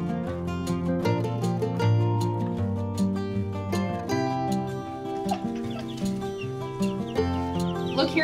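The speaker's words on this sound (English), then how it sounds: "Let's put these chicks in here real quick." Busy sounds from many baby chicks at once, with overlapping clucks and high peeps forming a steady, dense chorus.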